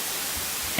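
White noise from a Feedback Modules Static modular synth, a steady even hiss heard alone, with a brief louder burst at the very end.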